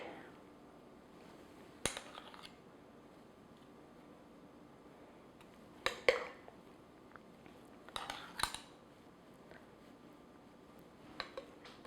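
Two spoons scooping sticky, stretchy yeast cake batter, giving a few sparse metallic clinks and taps against a bowl, spaced seconds apart over a quiet background.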